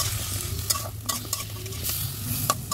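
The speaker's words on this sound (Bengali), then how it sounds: "তো সবজিগুলো ভালো করে কষিয়ে নিব।" Washed vegetables stir-fried in spice masala in a pan, a soft background sizzle broken by sharp scraping and clattering spatula strokes at irregular intervals, close and fairly quiet, with no speech.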